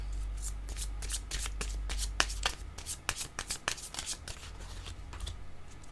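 Tarot-style cards shuffled by hand, a close rapid riffle of crisp flicks and slaps followed by a few separate snaps as cards are drawn.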